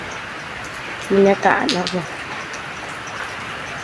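Heavy rain falls as a steady, dense hiss throughout, with a person talking briefly over it nearby.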